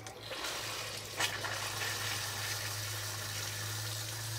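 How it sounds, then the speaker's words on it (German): Water flows steadily to fill the rubber bladder of a water-pressure fruit press while blackberry wine is being made, giving a constant low rushing hum with a faint hiss on top. "Nun wird der Gummiballon mit Wasser befüllt."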